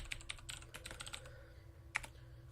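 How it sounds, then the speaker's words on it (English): Computer keyboard keys clacking in quick bursts of typing, close and fairly quiet over low background hum, with a sharper isolated keystroke near the end. "The way my setup is set up, like, you kind of have to hear my keyboard."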